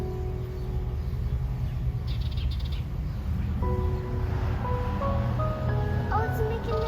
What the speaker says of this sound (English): I think the bird's calling its family.